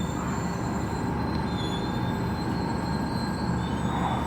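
A metro train in Europe rumbles steadily along the track, wheels squealing in thin high tones over the constant roar, with no voices.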